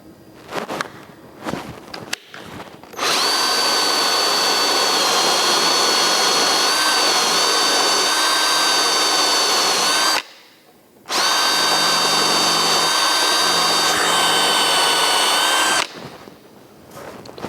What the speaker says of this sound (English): we need to counterbore this one and drill it all the way through at 7/16 of an inch